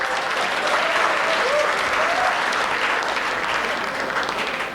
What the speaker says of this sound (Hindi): तालियां आती हैं इस पे